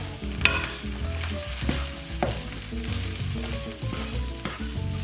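Yuca flour is stirred in a sizzling pan, a spoon scraping and clinking in repeated strokes over a soft steady sizzle, close and fairly quiet, with no voices.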